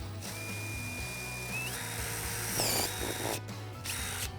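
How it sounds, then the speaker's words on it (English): A power drill with a step bit whines steadily as it bores a 3/4-inch hole through Mustang metal, with a rising pitch change midway and a brief grinding burst near the end. "right where you marked it, you're gonna drill it out to 3/4"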